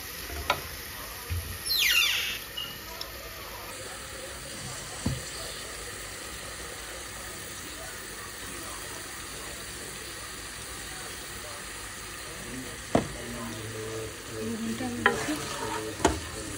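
Onion fries with browned garlic in a pan, a steady even sizzle and hiss running the whole time, with occasional stirring clinks and scrapes and a brief louder burst near the end.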